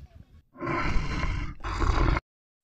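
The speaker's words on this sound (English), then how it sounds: "T for tiger." Tiger roar in a children's alphabet phonics song, two loud, close roaring bursts one after another following a brief sung phrase, then silence.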